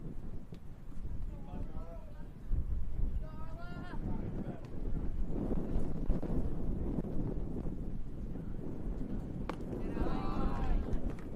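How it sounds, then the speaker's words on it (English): Gusty wind buffets the microphone at a 14U baseball game, producing low, uneven rumbling bursts that rise and fall, with people's voices briefly heard in the background. "that wind now gusting strong enough to affect gameplay"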